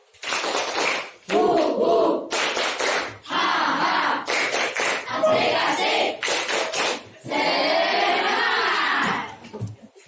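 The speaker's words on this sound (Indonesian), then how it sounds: "Tepuk tangan semangat baru" A group of people claps out a rhythmic clap chant in an Indonesian classroom-style session, with bursts of claps alternating with voices chanting together, loud and close.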